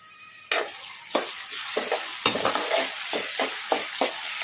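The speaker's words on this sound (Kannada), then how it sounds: "ಲೈಟ್ ಬ್ರೌನ್ ಕಲರ್ ಬರೋವರೆಗೂ ಫ್ರೈ ಮಾಡ್ಕೊಂಬಿಡೋಣ" Chopped onions sizzling in hot oil in a pan as a chicken fry is cooked, with a continuous frying hiss broken by repeated sharp scrapes and stirs of a utensil at an uneven rhythm.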